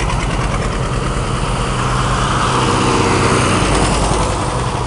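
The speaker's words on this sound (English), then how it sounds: "you're seeing a fun tractor ride coming by." New and antique tractors in a 105-tractor fun ride roll through town in Floyd, Virginia, with a steady, loud mix of idling and running engines rumbling close by and no talk.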